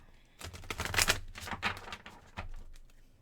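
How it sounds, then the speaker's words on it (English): A deck of tarot cards being shuffled by hand, a quick rustling and riffling flurry of papery slaps that rises and settles over a few seconds, fairly quiet and close. "that was a horrible shuffle"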